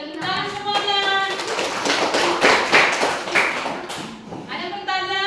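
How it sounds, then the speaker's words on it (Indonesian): A classroom full of students clapping together after a group presentation, a dense sustained burst of many hands with children's voices rising over it near the start and end. "Ya, tepuk tangan semuanya."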